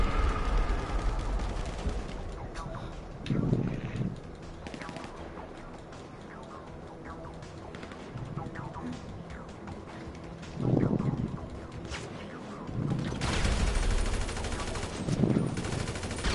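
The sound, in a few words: gunfire from weapons in video game GTA Online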